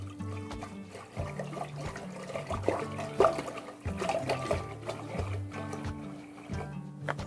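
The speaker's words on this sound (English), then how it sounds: "I'm going to put probably about a quart of water." Water pouring into a cooking pot set on a high gas flame, about a quart being added for pasta, an uneven splashing trickle with clattering, moderately quiet and close.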